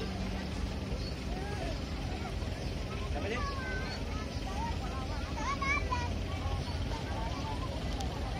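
Helicopter landing on a football field, a continuous rotor rumble and wash filling the scene at moderate distance, with a crowd of children and locals chattering and calling throughout.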